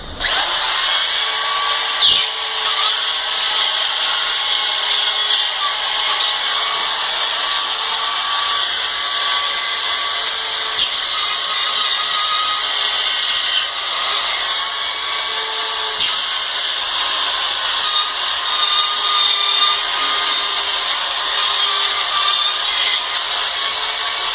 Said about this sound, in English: I'm going to take the router now and I'm going to go around it